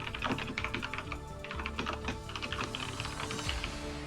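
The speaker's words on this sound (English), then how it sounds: "The sound of the keys trembling" Rapid computer keyboard typing during a StarCraft II match broadcast, a dense, fast patter of clicking keys, close and continuous, with no talking over it.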